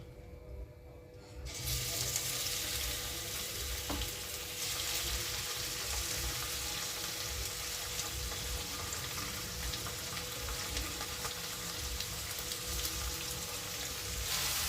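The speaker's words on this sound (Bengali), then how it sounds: "নুন হলুদ মাখানো চিংড়ি মাছটা এবার ভেজে নেওয়ার জন্য কড়াতে দিয়ে দিচ্ছি" Prawns coated with salt and turmeric fry in hot mustard oil in a wok, a bright, steady sizzle that bursts in after a quiet second and holds evenly, with no voices.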